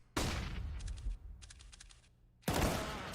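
Gunfire in Counter-Strike on the Mirage map during a tournament match: loud sharp bursts open and close the clip, with quieter rapid rattling shots between, no talk.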